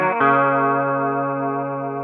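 A single sustained chord rings out on an electric guitar with effects, the turnaround of a song, loud and close, decaying slowly over two seconds.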